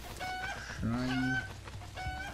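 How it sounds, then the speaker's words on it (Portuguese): A chicken in the video game Zelda Breath of the Wild clucks a few times, with a longer drawn-out squawk in the middle, heard fairly close over a soft game background. "Barulho de galinha."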